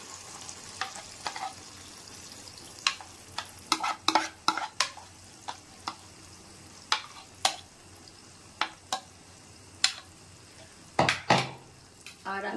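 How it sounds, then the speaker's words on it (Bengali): Batter poured into hot oil in a wok, a faint low sizzle under a string of crisp utensil clicks and scrapes against the pan, spaced irregularly and bunched near the end. "তেলটা গরম হয়ে গেছে, আমি যে ব্যাটারটা বানিয়েছিলাম সেটা এখানে দিয়ে দেবো অর্ধেকটা"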